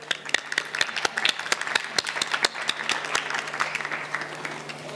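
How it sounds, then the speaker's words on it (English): Audience applause at the 2019 Future Policy Award Ceremony on youth empowerment, greeting award winners: a dense round of many hands clapping, steady and fairly close, with a few sharper individual claps standing out. "Ladies and gentlemen, another big round of applause for them"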